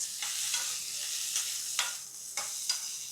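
Steady frying sizzle of chopped green tomato with curry leaves and chillies, with a few sharp scraping stirs of a spatula against the pan, close up, no talking.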